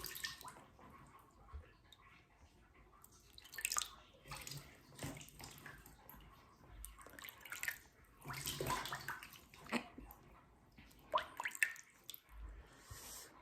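Water splashed onto the face by hand during wudu, with irregular close splashes, drips and wet rubbing in short bursts, alone and without talk.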